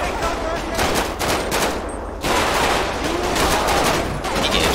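Dense, continuous automatic gunfire from a GTA V police mod shootout, a loud sustained fusillade of rapid shots with a brief lull near the middle before resuming at full intensity.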